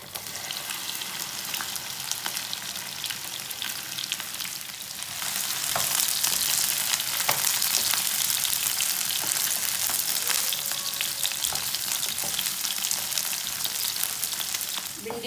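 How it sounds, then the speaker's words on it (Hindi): Sliced okra sizzles steadily in hot oil in a home kitchen, a continuous close frying hiss that swells louder partway through, with faint stirring noises and no talk. "भिंडी को मैंने 3 मिनट तक फ्राई कर लिया है"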